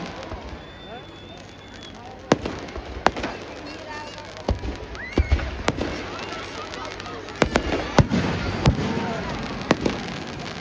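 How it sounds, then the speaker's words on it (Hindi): Fireworks burst at a Dussehra Ravan Dahan celebration in Nainital, with a string of sharp bangs and crackles spread through the scene over a busy crowd and a voice speaking. "और सुंदर आतिशबाजी"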